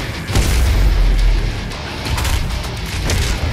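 Grenade blasts in the shooter game Doom Eternal come as heavy, booming low rumbles, loud and continuous, rolling across the whole stretch with a couple of swelling bursts layered over game noise.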